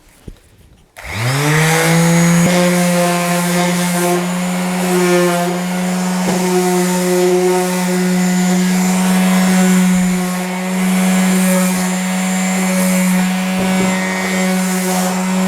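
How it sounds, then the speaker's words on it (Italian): An electric sander runs continuously on the edges of an old wooden dressing table, with a loud, steady motor whine and a gritty rubbing texture, starting abruptly after a brief quiet moment. "Utilizzerò la levigatrice solo sui bordi"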